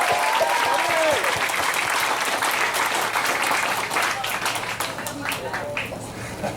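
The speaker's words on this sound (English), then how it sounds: "Can we have a round of applause for Pat?" Wedding guests applaud a speech, steady clapping from a crowd filling the room, loud and sustained before slowly thinning toward the end, with a few voices mixed in.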